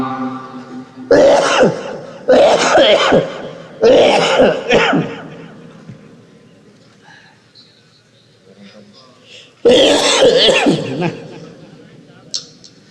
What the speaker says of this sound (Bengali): কাশিটা তো বন্ধই হচ্ছে না